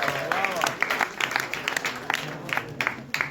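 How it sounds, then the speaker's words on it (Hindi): Scattered audience clapping at a live event, uneven bursts of hand claps rising and falling close by, with a voice speaking faintly through it. "आपकी तालियां आनी चाहिए"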